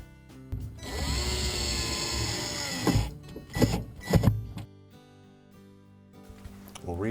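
Power drill drives screws into a GE refrigerator's evaporator fan motor cover, whirring in a sustained burst, then short pulsing bursts, before stopping into near silence.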